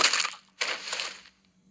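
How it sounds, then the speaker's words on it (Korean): A knuckle rap to the head knocks a character out in the Limbus Company video game: a loud, close crunching impact, a short pause, then a second longer crushing hit that fades out, with no voices. "방금 맨손으로 히스클리프를 눕힌 거야? 게다가 꿀밤 한 방으로?"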